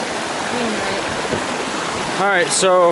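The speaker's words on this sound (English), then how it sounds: "Sorry, the water's pretty loud" Creek water rushes loudly beneath a small footbridge on the Dry Creek Trail loop near Boise, Idaho, running high. The steady roar stays close and constant while a person speaks briefly near the end.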